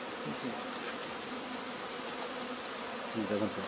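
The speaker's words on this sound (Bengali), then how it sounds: "কর্মী কর্মী মৌমাছি গুলো এই কাজটা করছে" Worker honeybees at a beehive kept for beekeeping, a dense steady buzzing swarm heard close and continuous, with a faint voice briefly underneath.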